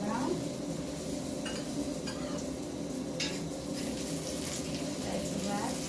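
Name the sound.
pumpkin chapati frying in a pan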